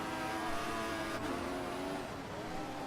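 Formula 1 cars racing in a video game, with a McLaren and a Red Bull battling closely. Engine whine holds high and steady, then drops as one car lifts, set against a constant rushing track noise.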